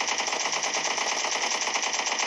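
Rapid automatic gunfire from a shooter video game, a dense unbroken burst of loud shots rattling continuously throughout.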